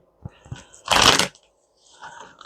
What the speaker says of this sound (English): Let me shuffle these now.